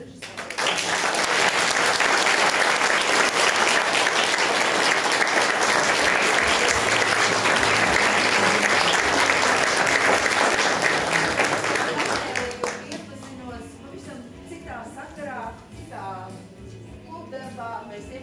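An audience at a children's theatre show applauds the director with steady, dense clapping for about twelve seconds, then it fades and a voice begins speaking over the quieter room.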